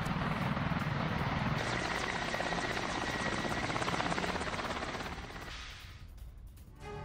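A military helicopter attacks a Ukrainian armoured vehicle in news footage: a loud, steady rotor roar dominates, with rapid gunfire-like rattling mixed in, before the noise cuts to quieter rumble near the end.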